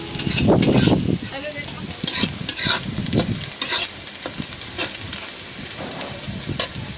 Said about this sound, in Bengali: পেঁয়াজ মরিচ ভেজে নিলাম এখন দিয়ে দিলাম